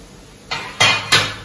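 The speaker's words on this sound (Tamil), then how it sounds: "இதுல நம்ம பூண்டு பீர்க்கங்காய் இதையும் போட்டுட்டு" Garlic and chopped luffa dropped into a pan of sautéed onions and green chilies, three quick metallic clatters of utensil against pan in succession, close and clear with no talk.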